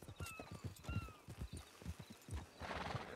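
Hooves clip-clop in an uneven trotting rhythm, with a horse whinnying briefly near the start; no talking.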